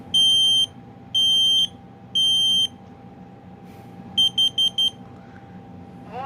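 A household smoke alarm under its monthly test sounds three long, loud piercing beeps evenly spaced, then after a pause a quick run of four short beeps over a low indoor hum.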